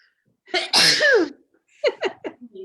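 A single person sneezes loudly and up close in a room with glass screens, followed by a few short vocal sounds.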